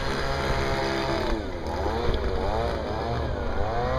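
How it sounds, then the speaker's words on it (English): A leaf blower's small engine whines loudly nearby on a shoreline, its pitch swelling and dipping as it revs. "he's got a leaf blower going."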